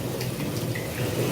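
Water pours into a pot for fish curry in a continuous splashing rush, close and fairly loud, with no talking over it.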